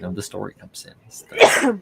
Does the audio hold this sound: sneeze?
yes